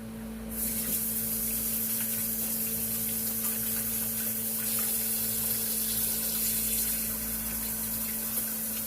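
Water runs steadily from a kitchen sink tap during washing, a constant hissing spray that starts abruptly after half a second and continues alone for several seconds with no talking.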